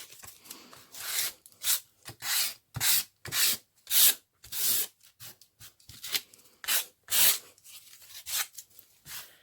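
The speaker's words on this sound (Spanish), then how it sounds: "Voy a pasarle un momentito la lija" Sandpaper rubbed back and forth on a wooden board in quick, uneven strokes, a rhythmic scratchy rasp close by with short pauses between passes.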